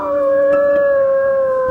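Dogs howl in a single sustained, steady, mournful note with strong harmonics, loud and close, with no voices over it.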